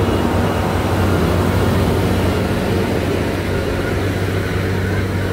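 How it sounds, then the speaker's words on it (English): A loud, constant forklift engine drone fills the space without pause, steady and broadband like heavy machinery running nearby. "Sorry about the noise in the back. It's the forklift."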